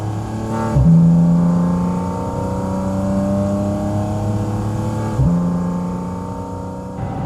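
A Porsche GT4 RS engine hums steadily at about 4,000 RPM, pitch rising smoothly with two brief dips as gears shift, heard from inside the car.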